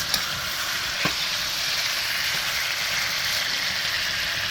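Onion hits a hot frying pan and sizzles in a dense, steady hiss that stays loud and even, with a faint knock or two near the start and no talking.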